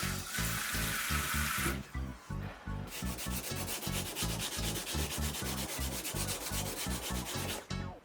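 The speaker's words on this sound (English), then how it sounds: "Just reach with sandpaper further up." Steady hand sanding of a prop katana blade with sandpaper, a rhythmic back-and-forth rasping in close, even strokes that keep going for several seconds without talk.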